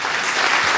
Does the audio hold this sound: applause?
yes